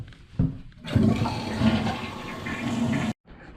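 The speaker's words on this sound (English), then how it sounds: "filling it up with water for the first time. We got our new flush valve and our new fill valve installed" A toilet flushes hard and then roars as its tank refills through a newly installed flush valve and fill valve; a steady, loud rush of water runs for a couple of seconds, then cuts off abruptly.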